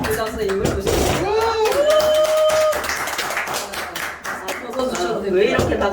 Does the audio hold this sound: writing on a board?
no